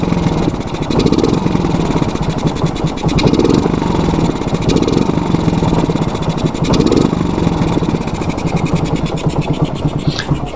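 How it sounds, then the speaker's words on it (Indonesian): Motorcycle with a faulty PE28 carburetor idling roughly up close, a loud continuous engine chug with an uneven, pulsing rhythm and no talk over it. "kalau kalian dengar suara langsa motornya itu kurang bagus"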